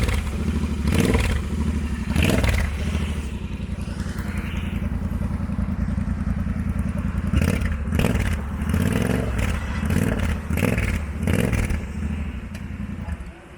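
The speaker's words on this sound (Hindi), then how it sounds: "ये BS6 के अंदर ये साउंड है विदाउट एग्जॉस्ट। ये देखो ज़्यादा साउंड नहीं है अभी। अब मैं थ्रॉटल देता हूँ।" A Royal Enfield 650 BS6 twin engine runs with its exhaust removed, idling in a loud, steady raw rumble, then blipped through several sharp throttle revs that rise and fall in close, rough bursts, with mechanical clatter underneath and no talk.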